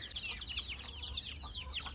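Chicks of a country chicken flock peep and cluck continuously while drinking turmeric water, a busy chorus of soft high calls at low level with no talk.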